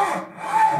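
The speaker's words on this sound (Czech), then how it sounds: "Tady pilko přeřízní to dřevo." A hand saw cuts through wood in a workshop, one short close rasping stroke with no talking.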